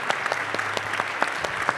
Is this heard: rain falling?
no